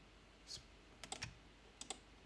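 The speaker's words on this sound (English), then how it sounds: "press Ctrl key from the keyboard and drag this arrow" Keystrokes on a computer keyboard while a technical drawing is edited in CAD software, a few quiet, close clicks in small clusters against a low background hiss.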